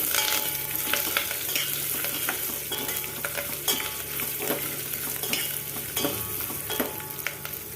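A tempering of curry leaves, dried chillies, turmeric and garlic crackles and sizzles in hot oil for a carrot fry, continuous close frying with frequent spitting pops and stirring scrapes, no talking.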